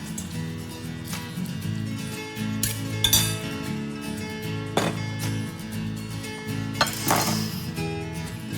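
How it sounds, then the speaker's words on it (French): A celeriac wrap filling is mixed in a bowl with a utensil: irregular bright clinks and taps against the bowl, some louder knocks, close up and without speech. "Je vais encore mélanger un tout petit peu et ma farce est prête."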